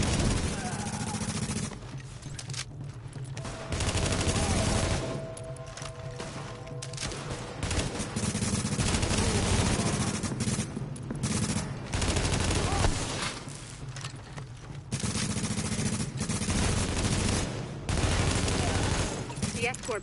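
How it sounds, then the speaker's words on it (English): Heavy sustained gunfire from a rooftop gunner in a shooter game, loud bursts of machine-gun fire repeating throughout with brief lulls, mixed with game ambience and voices talking over it. "Party's taking heavy fire from the roof."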